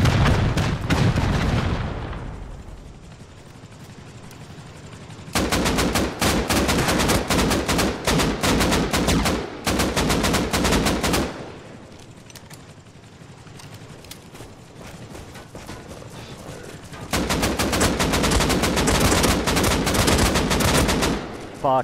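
Heavy gunfire and rocket blasts during a Rust Console Edition base raid, with long stretches of dense rapid-fire shooting broken by quieter gaps and an opening rumbling boom, loud and close.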